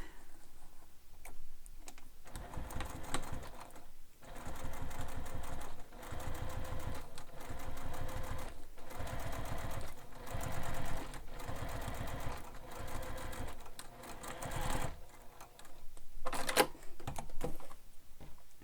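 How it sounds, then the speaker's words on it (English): A sewing machine top stitching a handheld bag seam, running in quick rhythmic bursts of rapid stitching separated by short pauses, close and clear with no talking. "I'm going to top stitch on B now"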